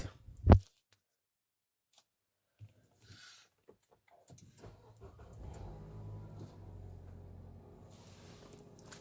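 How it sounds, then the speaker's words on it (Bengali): A Nissan X-Trail car engine starts after smart key programming. A sharp click comes first, then a pause, and then the engine catches and settles into a steady, close, low idling rumble for the last few seconds. "গাড়ি স্টার্ট হলো।"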